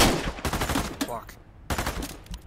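Rapid rifle fire from an enemy rifleman in the VR shooter Into the Radius 2, loud close bursts of shots in quick clusters with short gaps between them.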